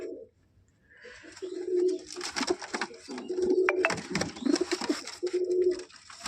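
A single female pigeon coos in a series of low, rolling calls at a steady pace, close and fairly loud, with fluttering and rustling between them.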